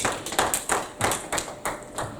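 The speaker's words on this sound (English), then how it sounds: "Clap your hands and celebrate God." A church congregation claps hands in a steady rhythm, about a dozen crisp claps at an even pace, close and fairly loud.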